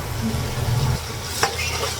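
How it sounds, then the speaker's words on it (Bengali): Onions fry in oil in a wok-style kadai with green and black cardamom, dried red chillies and green chillies, giving a steady close sizzle and hiss throughout with a brief sharp scrape of stirring near the end. "তো লাল করে ভাজা হয়ে গেছে পেঁয়াজটা"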